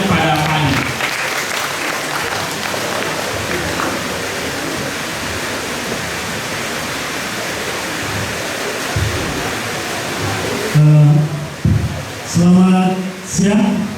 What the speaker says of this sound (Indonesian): Kita beri perantang dengan tepuk tangan yang meriah kepada Kak Ali.